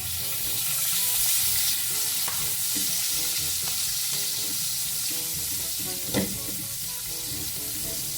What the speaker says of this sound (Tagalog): Dahil tayo po ay magigisa na ng ating mga recados.